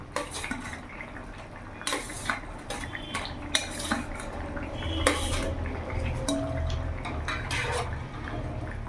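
Fried catla fish pieces go into a pot of curry with ridge gourd and potato, bringing clattering utensil knocks and clinks against the vessel over a low bubbling, wet background.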